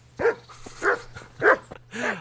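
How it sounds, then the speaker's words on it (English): A dog in the medieval video game Kingdom Come: Deliverance barks four times in quick succession, each bark short and fairly loud, with brief pauses between and a faint steady hum beneath. "because I'm making this dog bark"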